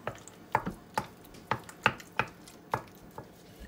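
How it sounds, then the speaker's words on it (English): Cream cheese and Mexican four-cheese blend being mixed in a bowl, heard as a series of soft, close, irregular squishy clacks and scrapes spaced roughly half a second apart, quiet with no talking. "Let me mix this up a little bit first before I put my cheese in."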